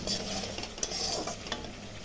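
Spice paste for a sole fish curry is stir-fried in a pan, giving a steady low sizzle with a few soft scrapes and stirring knocks, close and fairly quiet, with no voices.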